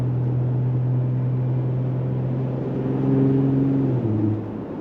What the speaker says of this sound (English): And with the extra sound from the exhaust